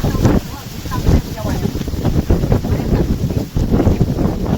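Strong storm wind buffets a house terrace, producing heavy, irregular gusting roar and microphone rumble that surges and dips in uneven pulses, close and loud throughout, with no clear speech.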